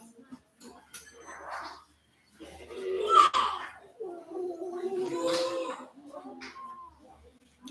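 A small dog makes whiny, grumbling vocal sounds in short bursts close to the listener, with quiet gaps between them.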